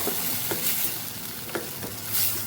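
Onion and garlic chutney sautés in hot oil in a pan, a steady close sizzle with a few soft stirring scrapes spaced through it, and no voices.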